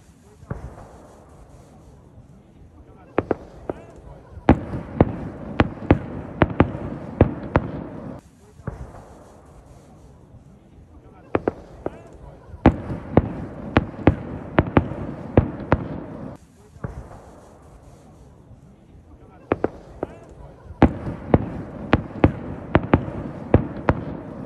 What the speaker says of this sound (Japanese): 合図花火を打ち上げますので